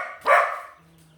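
A single sharp dog bark bursts out loud and close, trailing off quickly into a faint low hum.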